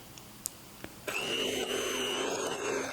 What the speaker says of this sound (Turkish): 4 adet orta boy yumurtayı yavaş yavaş ekleyerek mikserle çırpıyoruz.